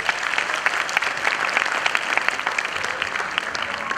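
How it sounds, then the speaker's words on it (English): Audience at a kids' school annual day applauding, dense sustained clapping from many hands at a steady level for several seconds. "Another round of claps for them, please."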